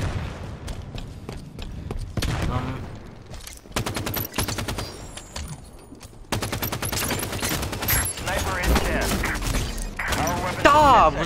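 Rapid pistol gunfire rings out in a Halo 5: Guardians multiplayer match, with quick repeated shots, mechanical weapon clatter and occasional thuds, layered with busy game effects and a voice talking.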